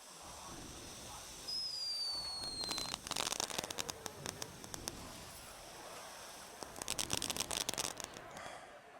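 A spinning firework with an explosive tag goes off in a video game, a rising whistle followed by bursts of crackling and sputtering, loud in two clusters over steady background hiss.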